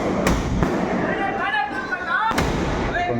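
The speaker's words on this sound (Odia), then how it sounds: "ଏବେ ବାଣ ଫୁଟିଲା" Festival fireworks at a Ganpati celebration in Bangalore: sharp cracking bursts pop a few times at moderate distance, with whistling crackle between them, while someone talks over the display.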